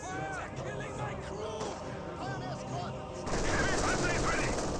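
Panther tank main gun firing in the Company of Heroes 2 Spearhead mod, amid a steady din of battlefield gunfire that grows louder near the end, with a voice talking over it.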